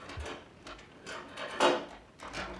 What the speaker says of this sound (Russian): Дверь открылась. Кто-то зашел.